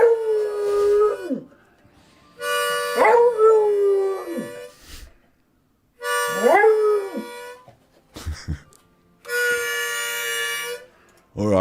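A rescue dog howling as if singing, several long rising and falling howls with pauses between, loud and close, with a person's voice in the gaps.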